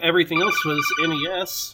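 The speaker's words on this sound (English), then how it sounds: "I am sorry that my phone is going off" A mobile phone rings in the background, a steady high electronic tone running beneath continuous close talking.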